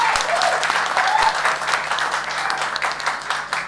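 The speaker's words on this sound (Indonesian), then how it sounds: "Tepuk tangan dong buat Anda semua" A talk show audience at Gedung Energi SCBD in Jakarta claps steadily in sustained applause, dense and lively throughout, with some voices mixed in.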